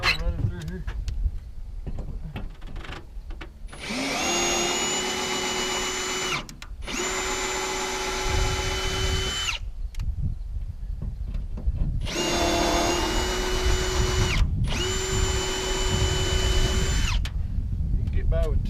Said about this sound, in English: just kind of taking my drill and running through here.